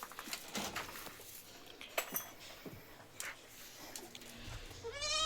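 A mother goat with her two roughly ten-day-old kids, on sale at Manjeri, gives a faint bleat near the end over quiet background clatter.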